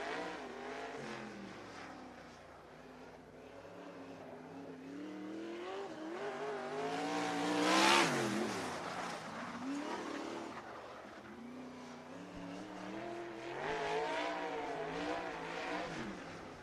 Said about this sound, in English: As Stanley gets it fired back up, going to get one lap here, it looks like, for his qualifying efforts for Stanley.